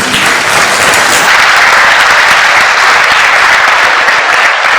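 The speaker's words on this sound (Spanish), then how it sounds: "un aplauso para Serial entonces" Loud, dense audience applause for a guest named Serial at the close of a Spanish-language hacking talk show segment, a steady wash of many hands clapping that holds evenly for several seconds with no voices over it.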